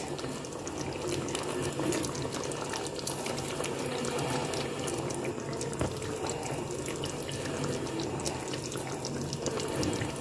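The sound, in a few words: lemon juice being poured into the pot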